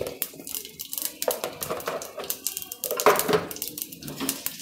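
Mustard seeds spluttering in hot oil for Tamil buttermilk curry (mor kuzhambu), a busy crackle of rapid pops and sizzles running steadily through the whole stretch, close and fairly loud with no talking.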